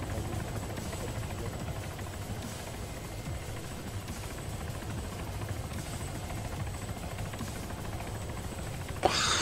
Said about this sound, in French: Je vois l'hélico déjà.